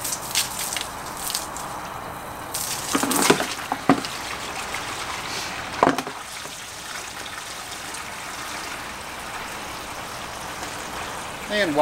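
Water runs into a bucket being filled for soaking a synthetic winch rope, a steady low gushing under occasional clunks and splashes, close by and moderately loud.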